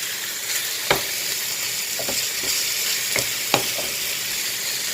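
Minced meat with chili fries in a pan, giving a steady, close hiss of sizzling broken by a few sharp clicks and scrapes of stirring.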